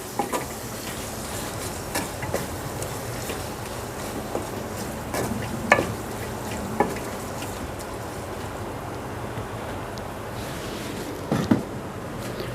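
Minced meat qeema with green chillies is stirred in a karahi, a steady close sizzle broken by scattered spoon scrapes and clinks against the metal.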